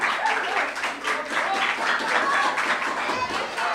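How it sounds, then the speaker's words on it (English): Dense, continuous clapping from a room full of people at a Lions Club event in South St Vincent fills the whole stretch, steady and moderately loud. "give her a round of applause again"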